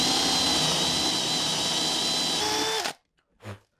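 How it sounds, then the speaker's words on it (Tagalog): Power drill boring holes while installing DIY floating shelves: a loud, close, steady high whine runs for almost three seconds, dips in pitch, then cuts off abruptly, followed by a brief muffled knock. "Saka tayo gagamit ng ating drill block."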